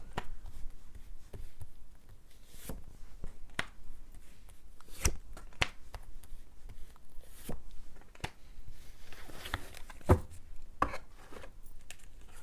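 Tarot cards shuffled and drawn by hand, with repeated sharp snaps and slaps of the deck in an irregular rhythm over a soft steady background, close and fairly quiet, with no talking.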